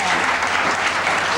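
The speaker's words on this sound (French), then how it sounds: "on peut les applaudir" A studio audience at a French television game show applauds, loud continuous clapping that fills the whole short stretch without a break.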